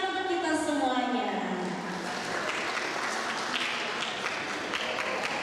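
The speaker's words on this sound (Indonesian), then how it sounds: "Beri tepuk tangan untuk kita semuanya." Audience clapping at an elementary school farewell ceremony, a sustained wash of applause from a hall full of people, joined at the start by a falling musical tone or sound effect, with a voice audible over the opening seconds.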